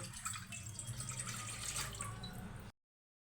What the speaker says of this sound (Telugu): ఇందులో 1 గ్లాస్ నీళ్లు పోసుకొని